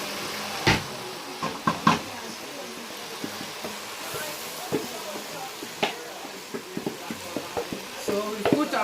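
Onion fries in very hot oil for Ghanaian shito pepper sauce, a steady sizzle close by with clinks and scrapes of stirring scattered through it.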